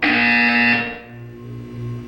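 A harsh electronic buzzer sounds in the Portal 2 video game, one loud sustained tone lasting under a second and then fading into a low hum.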